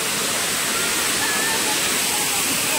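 Water pours down from above beside a flowing canal, a steady broadband rush of falling water that fills the whole clip at moderate loudness without any clear breaks.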